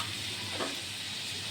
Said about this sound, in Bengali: রসুনটা একটু ভাজা ভাজা করে নিচ্ছি